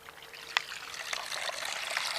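Water trickles and pours out steadily for animals, a soft continuous liquid stream that grows slightly fuller toward the end, close by with no talking.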